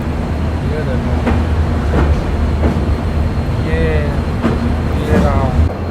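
Rajdhani Express train pulling into Sarang railway station in Mizoram, a steady low rumble of rolling carriages with faint rhythmic knocks and a few thin squeals, heard from inside the moving train.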